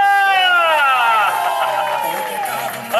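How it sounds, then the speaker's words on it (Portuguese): Party crowd at a wife's birthday celebration for Kátia in Jabaquara cheering and whooping loudly, with excited voices and babble over a short burst of applause, close and lively. "Palmas pra Kátia!"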